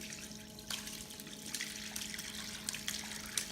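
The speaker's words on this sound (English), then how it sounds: "pour it into whatever size will work, and see how this basket, the strainer, is catching all the goodies" Turkey juice pours through a strainer basket into a container as a soft, steady trickle and splash, faint and continuous under a low background hum.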